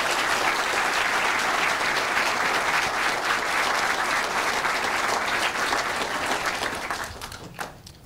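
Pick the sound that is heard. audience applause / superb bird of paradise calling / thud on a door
audience applause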